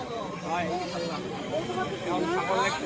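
Bleating goats and sheep mix with the murmur of a crowd and voices nearby, a busy livestock market in Bangladesh with steady background bustle.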